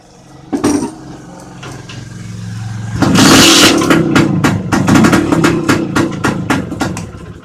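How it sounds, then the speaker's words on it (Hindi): A motorcycle engine cranks and catches after an ignition switch replacement, then runs with a loud, uneven chugging idle close by, punctuated by sharp revs and mechanical clatter. "अभी हम अपने बाइक को स्टार्ट करके देखते हैं।"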